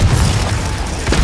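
A Confringo explosive spell is cast in the video game Hogwarts Legacy, a short, loud, booming burst with a heavy low rumble.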